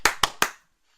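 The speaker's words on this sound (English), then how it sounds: "clap your hands" Three quick, sharp hand claps in a steady rhythm, close and clear, clapped along to a singalong of "If You're Happy and You Know It", then silence.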